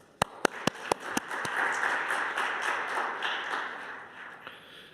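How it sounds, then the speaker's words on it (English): Applause at the FIDE General Assembly in Chennai, India: a few sharp separate claps at the start, then a steady wash of clapping from the hall that runs on for several seconds before thinning out. "they deserve rounds of applause"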